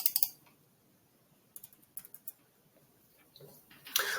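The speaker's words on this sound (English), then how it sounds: "if I type in SQL correctly" Quiet keystrokes on a computer keyboard as SQL is typed, a short burst of clicks at the start, then sparse separate taps and a final cluster near the end, with no voice.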